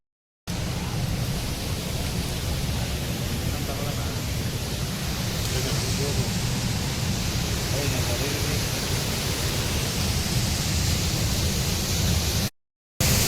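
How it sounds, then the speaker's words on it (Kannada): Hogenakkal Falls on the Karnataka side roars as a dense, constant wash of rushing water that fills the whole scene, loud and unbroken, with a brief dropout near the end. "ನೋಡಿ ಮತ್ತೆ ಇಲ್ಲೊಂದು ಫಾಲ್ಸ್ ಈ ಕಡೆ ಕರ್ನಾಟಕ ಬರೋದು."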